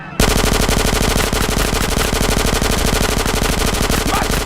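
Continuous rapid machine-gun fire from the game GTA San Andreas during a drive-thru mission, loud and close, a dense unbroken rattle of shots for the whole stretch.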